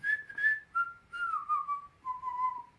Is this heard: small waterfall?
no